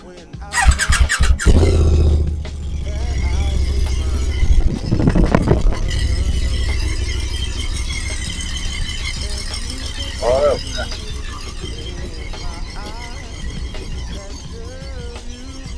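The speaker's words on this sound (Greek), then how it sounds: "το μηχανάκι ενός φίλου, ένα Aprilia 400 τρελό σκούτερ, γρήγορο" A fast Aprilia 400 scooter revs loudly nearby with a sharp burst of engine noise, then keeps running steadily while people talk over it.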